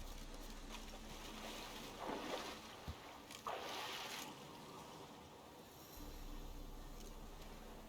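Boat gliding across open water in The Witcher 3 on PC, with a steady low wash of water and wind, a few brief splashing swells midway and a single knock, no talking.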